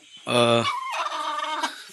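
A single loud, close-up call from a country hen sitting on a nest, a harsh squawk sliding into a drawn-out wavering cry, alone in quiet surroundings.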